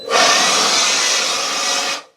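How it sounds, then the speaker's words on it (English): A steady, close rasping scrape of sandpaper on wood, one continuous stroke lasting about two seconds before stopping. "I was just sanding it to get rid of the extremely rough stuff."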